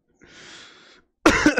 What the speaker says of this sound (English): This is pure coincidence that I'm also coughing.